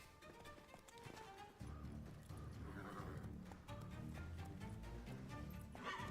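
Roach the horse trotting in The Witcher 3 video game, steady rhythmic hoofbeats close by against a low rumbling game soundscape, with a short snort or whinny partway through.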